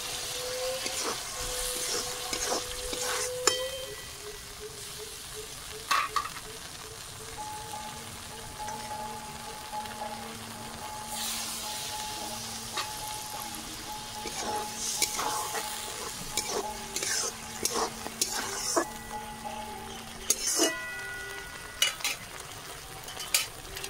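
A spiced masala for restaurant-style chicken 65 sizzles quietly in a pan as a cornflour and water slurry goes in, a soft continuous fry broken by scattered sharp clinks and scrapes of a spoon stirring.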